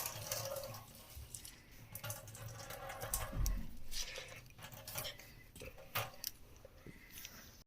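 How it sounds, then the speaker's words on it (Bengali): Water being poured off boiled taro into a sink, a steady splashing and trickling stream at close range with a few louder sloshes, no talk. "দেখো বন্ধুরা আমার কচুর জলগুলো সব ফেলে দিচ্ছে যাতে গলায় না ধরে।"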